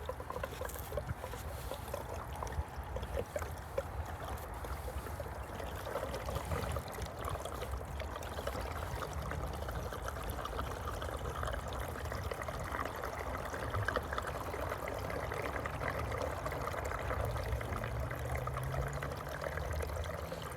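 Gasoline pours steadily from a one-gallon fill into the fuel tank of a Ford Maverick, a continuous close trickling and gurgling stream lasting about twenty seconds with no talk.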